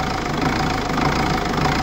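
A Mercedes-Benz engine with a DRV valve fault idles with floating RPM, a loud, close, continuous mechanical hum and rattle that wavers slightly in pitch and level.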